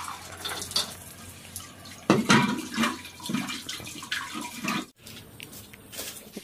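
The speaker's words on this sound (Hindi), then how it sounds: "चावल धुला गया, अब इसको बैठा देंगे" Rice being washed in water gives a running-water splash and swirl with sloshing bursts, loudest in the middle, then a brief gap and more gentle trickling.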